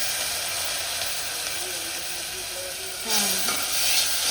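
Dal hits a hot pan already holding green chilies and curry leaves, and the steady frying sizzle swells into a louder hiss as it goes in, close and continuous in a home kitchen.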